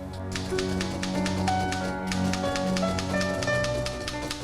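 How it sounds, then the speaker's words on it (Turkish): A typewriter clacking in quick, uneven keystrokes, with occasional ringing bell-like tones and mechanical taps, close by and moderately loud. "İşte bir neslin aşina olduğu ses. Klavyeden önce daktilo vardı."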